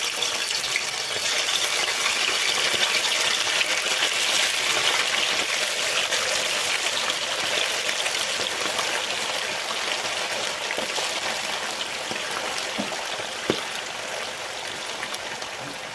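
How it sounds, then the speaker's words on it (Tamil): Marinated chicken for chilli chicken fries in hot oil, giving a dense, continuous hissing sizzle that stays fairly loud throughout and eases only slightly toward the end, with no talking. "நம்ம கலந்து வச்சிருக்கிற சிக்கனை வந்து நம்ம போட்டு பொரிச்சுக்கலாம். எண்ணெய் பார்த்தீங்கன்னா நம்மளுக்கு நல்லா சூடாயிருச்சு."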